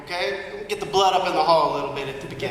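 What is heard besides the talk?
No distinct noise like a dog, phone or traffic.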